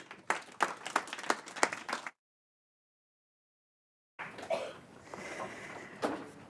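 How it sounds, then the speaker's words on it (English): An audience at a tax report launch event applauds the panelists, with dense clapping before a gap of silence, then more applause returning faint and mixed with room murmur. "applause to all the panelists"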